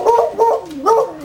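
An old beagle makes a few short, whining, talk-like vocal sounds close up, rising and falling in pitch, three quick yowls in a row.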